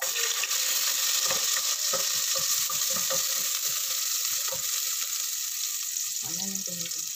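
Garlic and onion fry in a pan for lamb goto, a steady loud sizzle with scattered crackles and stirring clicks throughout, and a short low voice-like burst near the end.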